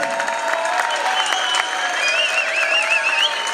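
Audience applause for a singer, a dense steady wash of clapping mixed with some crowd noise and a faint whistle or cheer, fairly loud and continuous throughout.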